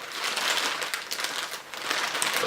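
A plastic shopping bag is pulled and torn open by hand without scissors, giving a steady loud crinkling and crumpling that runs through the whole moment, close up, with no talking.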